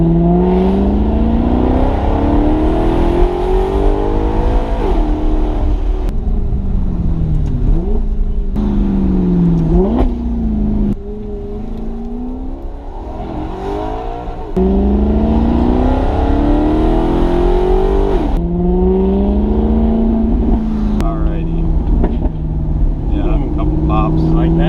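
A straight-piped Maserati GranTurismo MC engine revs hard and climbs through quick upshifts, pitch rising and dropping repeatedly, loud and close from the cabin.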